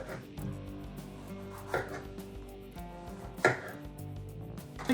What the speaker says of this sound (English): We're going to cut the garlic right on the top.